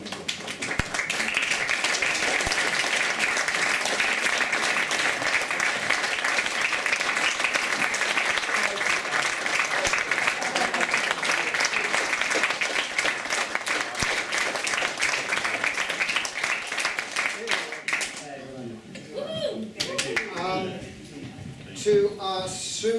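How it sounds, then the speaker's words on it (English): Community heritage-night audience giving speakers a long, sustained round of applause, dense and even for about eighteen seconds before thinning out as voices take over. "let's give them a round of applause one last time."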